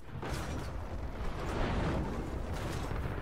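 A trebuchet fires in the action-adventure game Rise of the Tomb Raider, giving a faint, rumbling, sustained whoosh and low boom that swells and fades without distinct sharp impacts.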